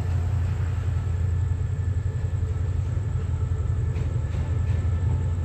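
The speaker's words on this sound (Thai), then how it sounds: "ใช้เป็นรถจักร QSY ทางขบวนนะครับ" A night express train hauled by a QSY locomotive passes close by, a steady heavy rumble of wheels and wagons with faint clicks, loud and unbroken throughout.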